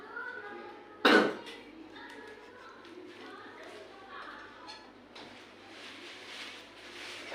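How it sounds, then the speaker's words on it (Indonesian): A patient gives one loud, close cough during chest physiotherapy and breathing exercises with oxygen therapy, then breathes audibly as a clinician's voice guides the session over low room hum. "Ini Pak, ini batuk."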